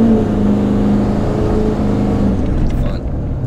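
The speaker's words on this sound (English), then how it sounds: "that's just barely me tapping the throttle and the truck," A deep diesel truck engine revs in short bursts close by as the throttle is barely tapped, throaty and steady, with faint talking mixed into the rumble.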